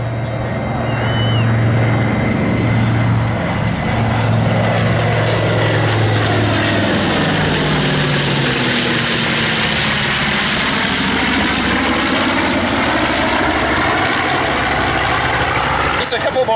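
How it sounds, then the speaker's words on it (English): WWII propeller warbirds, a B-25 bomber, a P-51B Mustang and a Supermarine Spitfire, flying past at the Paine Field airshow, a loud sustained engine roar that swells and sweeps in pitch as they pass, with an announcer's voice over it. "once again, from the north, the B-25, the Mustang, and the Super Marine Spitfire."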